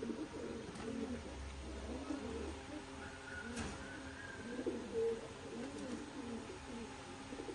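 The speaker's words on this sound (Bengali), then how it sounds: "এই হচ্ছে নর কবুতরটি" Male pigeon of a blue-bar, black-winged type among tournament pigeons, giving soft low cooing in short bursts, close by, with faint background noise and no talk.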